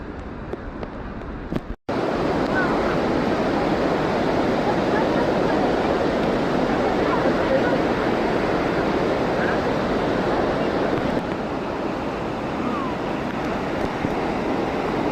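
A constant, broad roar of rushing water from Niagara Falls at the Cave of the Winds fills the scene, loud and unbroken, after a brief sharp knock near the start.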